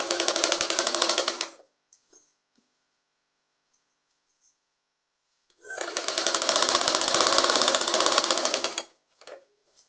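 Sewing machine stitching the fabric of a child's umbrella frock, two loud, steady bursts of rapid mechanical whirring, the first about a second and a half and the second about three seconds, separated by quiet with faint handling clicks.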